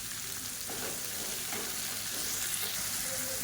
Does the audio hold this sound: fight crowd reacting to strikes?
no